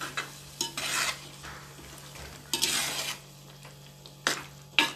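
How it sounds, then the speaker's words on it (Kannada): Fish curry masala is stirred and fried in a pan, with a spoon scraping the pan in repeated close strokes over a soft, steady sizzle and no talk. "ಇನ್ನೂ ಚೆನ್ನಾಗಿ ಫ್ರೈ ಮಾಡ್ಕೊಳ್ಳೋಣ."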